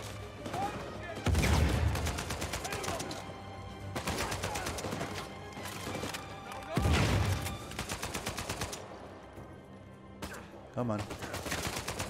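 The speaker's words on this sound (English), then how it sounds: "Who the hell's firing me from back here?" Gunfire in Uncharted 4, with loud automatic bursts and rapid rattling volleys coming in waves. Someone talks briefly over the shooting.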